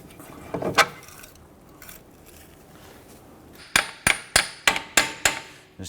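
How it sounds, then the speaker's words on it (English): Hammer tapping on a front right CV axle of a 2006-2014 Honda Ridgeline 3.5L V6 during axle removal, six sharp metallic clangs in a steady rhythm, close and loud, after a softer clank earlier. "Just tapping on that CV axle now to go ahead and work that out"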